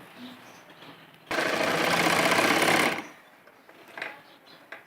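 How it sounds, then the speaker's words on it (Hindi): A sewing machine stitches a side zipper into a long dress blouse in one rapid, loud burst of about a second and a half, between quieter stretches of handling noise. "कहीं से सिलाई छूट गई हो या सही से नहीं लगी हो तो एक बार वापस सिलाई लगा ले"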